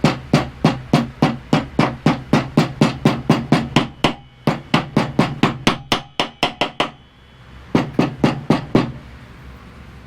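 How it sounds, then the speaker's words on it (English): Hammer gently tapping a seal into the spindle housing of a Cub Cadet mower deck, a long run of evenly spaced sharp metallic taps close by, a brief pause, then a few more taps. "we're just going to gently tap our seal in here"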